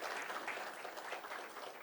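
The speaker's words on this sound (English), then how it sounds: "Big round of applause." Brief, steady applause from an audience at a career talk, a continuous patter of many hands clapping for under two seconds, quiet and evenly sustained.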